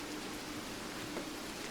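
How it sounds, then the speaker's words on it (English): Steady hiss of heavy rain falling, a dense even wash with no breaks, quite faint overall. "Rain is quite loud right now"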